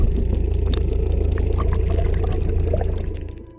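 A research boat's engine runs steadily at sea during a Mediterranean whale survey, giving a loud, continuous low drone with sloshing water and rapid ticking clicks on top, fading slightly at the end.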